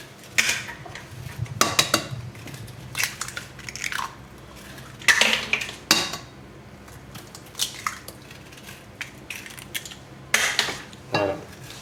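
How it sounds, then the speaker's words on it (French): Eggs being mixed into sugar, flour and vanilla sugar in a bowl, with irregular wet squishing and scraping strokes of a utensil against the bowl, close and moderately loud, no talking. "Je vais venir y rajouter mes œufs. Les 4. Et on va venir mélanger le tout."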